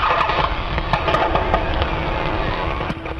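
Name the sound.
sea ice cracking in the Antarctic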